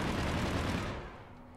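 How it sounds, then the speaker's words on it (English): Gunfire in the sci-fi shooter Mass Effect 3, a loud dense burst of rapid shots that tails off into quieter reverberant noise after about a second. "One shot at me, that's not cool."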